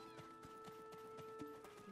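Horse hooves in the online role-playing game Black Desert clop in a quick, even rhythm, with a short neigh partway through, faint and mixed with a steady musical drone.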